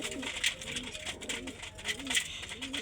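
Pigeons cooing repeatedly while feeding, soft low rolling coos close by over a light rustling background, with no talking.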